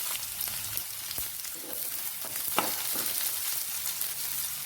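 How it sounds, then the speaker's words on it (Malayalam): Chopped shallots frying in hot oil with mustard seeds, a steady close sizzle with crackling pops throughout. "ഇതിലേക്ക് നമുക്കൊരു 5 ഉള്ളി ചെറുതായിട്ട് അരിഞ്ഞിട്ട് കൊടുക്കാം."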